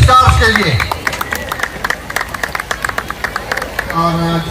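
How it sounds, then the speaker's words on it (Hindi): An audience at a thalassemia charity event claps in a steady, rhythmic burst for the young hosts, with a voice speaking over the start and again as the applause fades. "सबकी भरपूर तालियां इन स्टार्स के लिए"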